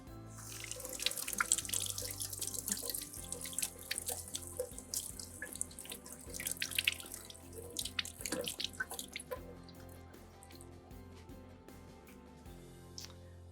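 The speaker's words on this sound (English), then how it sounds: "I'm going to go on and give these a little bit of a wash though" Carrots still sandy from a farm-share box rinsed under a running kitchen tap, a steady close stream of water splashing into the sink with drips and small surges, no voices.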